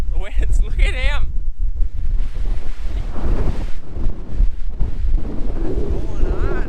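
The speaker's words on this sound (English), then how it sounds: "So it's exceptionally more windy at this yard. It's terrible." Strong wind roars and buffets the microphone across an equipment yard in loud, continuous gusts, with someone talking over it.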